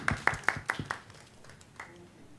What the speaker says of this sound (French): Okay, let's give them a hand.